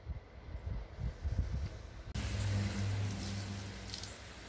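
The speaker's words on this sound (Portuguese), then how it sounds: "agora eu vou enxaguar o shampoo" After some quiet rustling, water suddenly starts pouring and splashing steadily, a continuous close shower rinse.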